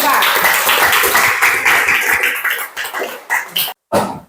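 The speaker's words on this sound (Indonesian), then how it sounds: "Kita berikan aplaus untuk kelompok 4." A classroom of junior high students at a school in Central Maluku gives a group a round of applause, a dense wash of clapping that thins into a few scattered claps and stops abruptly near the end.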